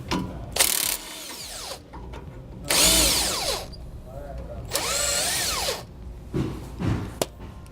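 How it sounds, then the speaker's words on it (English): A power tool with a 13mm socket spins off U-bolt nuts on a steering linkage, several loud bursts of whirring and ratcheting separated by short pauses. "There's 4 nuts on the back that you can take off with a 13mm socket."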